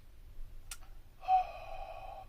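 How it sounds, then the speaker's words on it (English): A voiceless, breathy exhale made as a vocal exercise for belting, one noisy airy breath lasting about a second after a brief sharp intake, close and clear in a quiet room. "just exhale and try to create a lot of this breathing noise into the exhaling"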